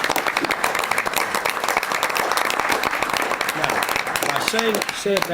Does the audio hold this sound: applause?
yes